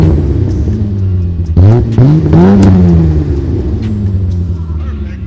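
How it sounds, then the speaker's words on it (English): A BMW E30 fitted with a carbon fiber cold air intake and aftermarket exhaust idles, then blips its engine a few times in quick rising revs before settling back to a steady idle, loud and close. "I'm gonna turn it on and see how it sounds. All right, so I'm gonna test out the exhaust."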